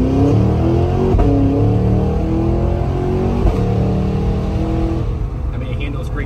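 A 2023 Cadillac Escalade V accelerates hard uphill from first through third gear, its engine climbing loudly through rising revs with brief shift dips, heard close and continuous from inside the cabin.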